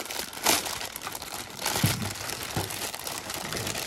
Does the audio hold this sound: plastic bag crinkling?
yes